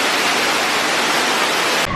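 The volcano waterfall at Volcano Bay water park pours down in a loud, unbroken rushing roar heard from right underneath, cutting off abruptly at the very end.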